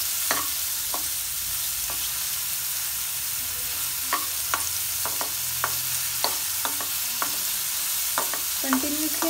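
Mushrooms fry over a low gas flame in a kadai with a broad, steady sizzle, broken by the sharp taps and scrapes of a spoon stirring them. Nobody talks over the cooking.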